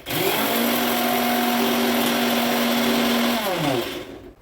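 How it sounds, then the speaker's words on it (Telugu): An electric mixie blender grinds roasted cashews into powder, a loud steady whine with a droning motor pitch that runs for about four seconds, then slows and winds down as it switches off. "మిక్సీ జార్లో పోసుకొని మెత్తగా మిక్సీ పట్టుకోవాలి"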